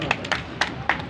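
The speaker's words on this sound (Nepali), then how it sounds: "ताली।" Scattered handclaps from an audience at an outdoor street poetry recitation, four separate bursts spaced through the moment, modest in level over a steady murmur of background noise.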